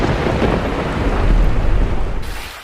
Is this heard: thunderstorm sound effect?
yes